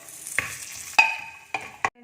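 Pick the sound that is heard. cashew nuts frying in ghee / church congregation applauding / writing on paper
cashew nuts frying in ghee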